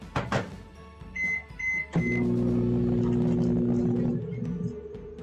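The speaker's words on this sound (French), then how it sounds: "Du beurre dans le micro-ondes à peu près 30 à 40 secondes." A microwave oven heating butter gives a few short button beeps and then a steady close hum as it runs, the hum easing slightly near the end.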